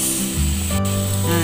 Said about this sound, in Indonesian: Kalau saya kepengen goreng ayamnya.